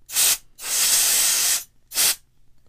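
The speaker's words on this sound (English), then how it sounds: "So just get your can of duster spray," Three sharp hissing bursts from a can of compressed air duster nearby, cleaning a laptop fan filter: a short blast, a longer sustained one, then another short puff.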